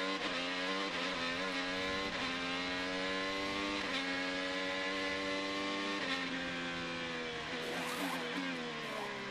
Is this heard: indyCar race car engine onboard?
yes